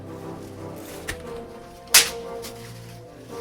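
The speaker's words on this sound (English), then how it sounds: "Whip sound." A single sharp whip crack snaps out near the middle, loud and brief, over a low steady background hum.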